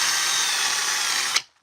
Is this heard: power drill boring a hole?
yes